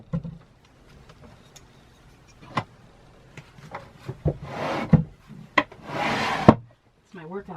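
Storage drawers slide open and shut inside a tour bus, producing several rubbing, scraping wooden runs with sharp knocks between them, close and fairly loud, with quiet background noise.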